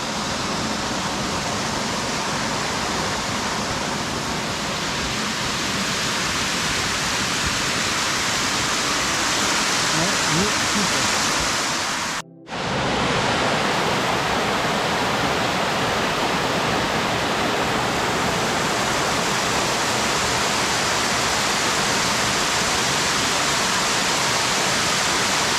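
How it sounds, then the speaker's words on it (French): The waterfall near Lac de Bethmale in the Pyrenees pours as a loud, steady broadband rush, constant and close, with a single brief dropout partway through. "on laisse la cascade là"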